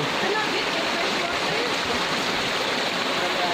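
A waterfall rushes into a stream at Barangay Duelic, Midsalip, a loud, steady, close roar of pouring water that fills the whole moment without letup.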